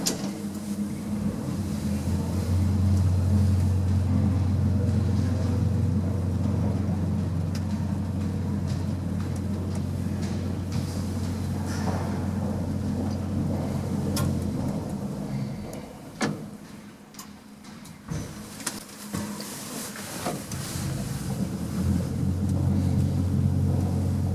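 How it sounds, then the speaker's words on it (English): A 1950s lift with no inner doors rides through a building in Cologne, giving off a steady, loud low rumble and hum with a few brief clicks and knocks partway through the ride. "This lift's a really posh looking 1950s inner doorless lift"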